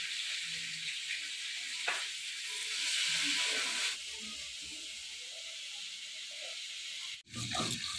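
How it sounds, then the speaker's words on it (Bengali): Potatoes and cauliflower seasoned with salt and turmeric sizzle steadily in a pan, a continuous close frying hiss with a brief stirring clatter near the end and no talking. "আলু ফুলকপি ভাজা হয়ে গেছে"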